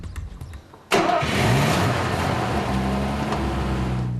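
A Benz Patent Motor Car's engine fires up abruptly after a short quiet stretch, then settles into a loud, steady chugging idle close by.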